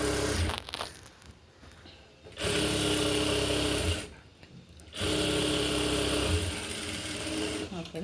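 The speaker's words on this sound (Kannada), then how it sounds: "ಅದಾದಮೇಲೆ ಇನ್ನೊಂದು ಫೋಲ್ಡಿಗೆ ಹೊಲಿಗೆ ಹಾಕ್ಕೊಳ್ಳಿ" Sewing machine stitching a folded sleeve hem on a ready-made dress: close, steady motor whirring in long runs, broken by two short pauses.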